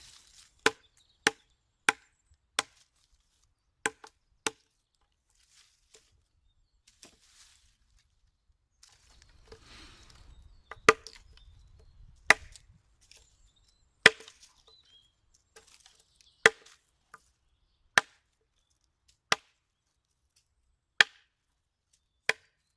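A cheap Norma camping knife is batoned through wood, giving sharp, isolated knocks at irregular intervals of a second or two, with a brief scraping, rustling stretch midway; close and dry, no talk.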